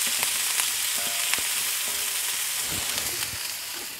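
Chicken and noodles fry on a Big Green Egg grill outdoors in freezing weather, giving a steady close sizzle with occasional stirring clicks and scrapes, and no talking.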